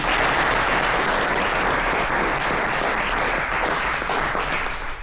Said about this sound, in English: a big round of applause one more time